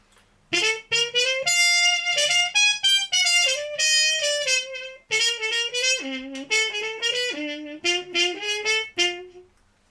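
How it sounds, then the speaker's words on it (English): A trumpet played through a mute with the stem removed gives a lighter, bright, buzzy tone, phrased as a close, solo melodic line of short, detached notes with brief pauses between them. "which I will first play the mute without the stem, so you can maybe hear a slight difference between these two ones"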